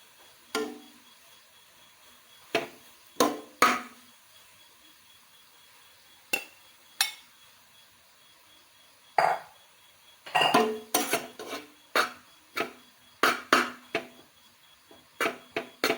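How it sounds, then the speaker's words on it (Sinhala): Chopped string hoppers are mixed in a pan with a metal utensil, giving sharp, scattered clinks and scrapes close by, in irregular bursts separated by quiet gaps. "මේක දැන් අපි හොඳින් කලවම් කරගමු."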